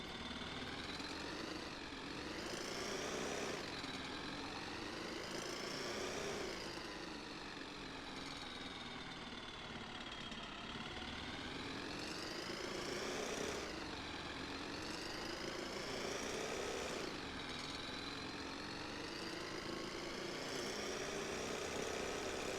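Car engine in the video game ContractVille, a steady droning motor hum with rising and falling revs that sweep up and down repeatedly, loud and continuous with no voices over it.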